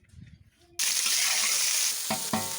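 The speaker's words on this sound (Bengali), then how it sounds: "ফুলকপি ভাপিয়ে নিয়েছি এবার লাল লাল করে ভেজে নেব" Steamed cauliflower frying in oil: after a brief quiet moment, a sudden loud burst of sizzling erupts and holds steady, with a couple of stirring scrapes near the end.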